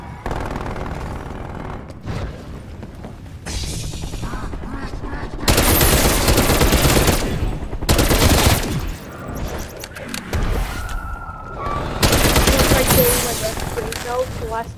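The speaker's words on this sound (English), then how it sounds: "Sentry turret locked and loaded" A sentry turret in Call of Duty Cold War Zombies opens up in several loud, rapid bursts of gunfire separated by short pauses, mixed with game effects and occasional voices.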